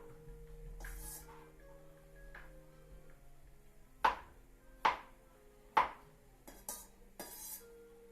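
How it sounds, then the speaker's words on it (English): A knife chops ingredients for chicken and miso tofu soup in a home kitchen: three crisp, evenly spaced chops ring out loud and close, with softer clinks and knocks around them. "We're just chopping these in a way so it's consistent size for cooking."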